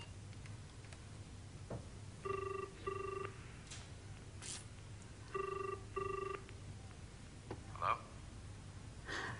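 A telephone rings in two pairs of double trills, evenly spaced, fairly faint against a quiet room with some soft background noise and no clear talk.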